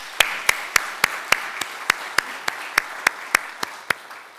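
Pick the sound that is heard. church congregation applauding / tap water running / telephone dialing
church congregation applauding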